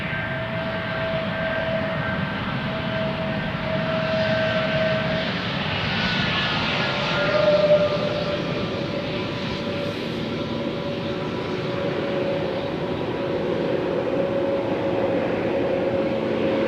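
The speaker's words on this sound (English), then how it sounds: "Here we have an Aegean A320 or 21 Neo." Aegean Airbus A320 or A321neo jet on Schiphol's Polderbaan runway, a loud continuous engine roar with a steady whining tone, swelling slightly midway and holding at a distance.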